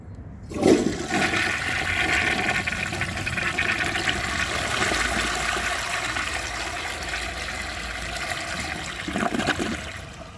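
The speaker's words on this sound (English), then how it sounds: "So let's give this a flush and see how it does on tests." A 1939 Standard Modernus toilet flushes with a sudden, forceful rush of water that churns steadily for several seconds, then gurgles and trails off into a refill trickle, close and loud.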